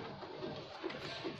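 A male pigeon coos softly in a few low, repeated calls against steady background noise.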